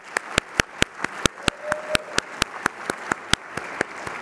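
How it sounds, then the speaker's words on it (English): Audience at a breakfast keynote applauding legislators, with sharp, evenly spaced claps standing out over a softer bed of applause, close and loud. "Please join me in giving a round of applause,"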